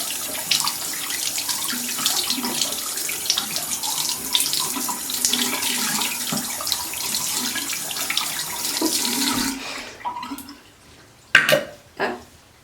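An oil paintbrush is rinsed under a running tap, with a steady broadband rush of water hitting the sink for about nine seconds before it stops, followed by a few close drips and small splashes.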